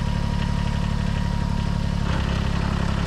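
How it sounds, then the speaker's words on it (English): A Kubota BX compact tractor engine idling steadily nearby with a low, even rumble and a faint rise in the drone partway through as the snowblower engages. "in order to turn on the snowblower, you bring this guy forward and into that notch"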